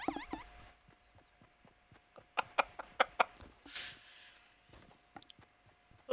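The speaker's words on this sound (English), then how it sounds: "Look at all those chickens!" Chickens cluck in the video game Fortnite, with a quick run of sharp clucks near the middle and a few scattered calls before and after, heard alone against a quiet background.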